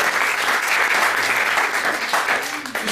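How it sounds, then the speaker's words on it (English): Dense, loud applause from a church conference audience fills the whole stretch, steady and sustained before easing slightly at the end. "Give the Lord a mighty clap."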